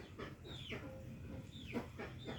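A small backyard flock of fifteen chickens, four roosters and eleven hens raised together, clucks softly at close range, with several rising, bending calls spaced through a quiet moment.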